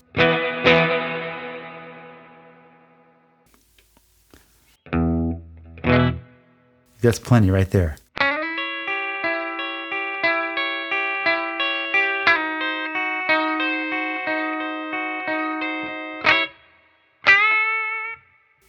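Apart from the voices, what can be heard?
electric guitar with heavy reverb effect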